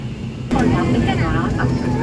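A passenger airplane begins rolling down the runway, heard from aboard as a loud, steady engine roar that rises suddenly and holds, with a voice faintly under it.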